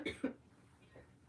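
Two close, fairly loud coughs from someone with a bad cold, a sharp pair at the start followed by a fainter throaty cough near the end, with quiet room noise between.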